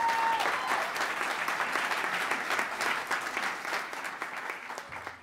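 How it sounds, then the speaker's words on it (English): Sustained applause from an audience at a workforce event fills the room, steady and dense throughout before tapering slightly near the end. "a considerable round of applause for that"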